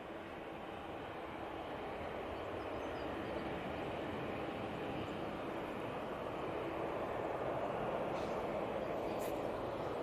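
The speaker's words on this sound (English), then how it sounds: "KLM A321 Neo departing back to Amsterdam Schiphol." A KLM Airbus A321neo jet departs Manchester Airport bound for Amsterdam Schiphol, its engines giving a steady, broad, distant roar that swells slightly toward the end.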